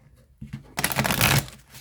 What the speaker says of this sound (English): All right, let's do 2 more shuffles.